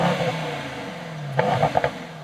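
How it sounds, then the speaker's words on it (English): A Mercedes-AMG E63 S 4-liter twin-turbo V8 of 612 horsepower, 2022 facelift sedan, idles with a steady low hum, then gives a few short sharp blips of the throttle near the end. "that's the 4-liter V8 bi-turbo, 612 horsepower, and here in the E63S"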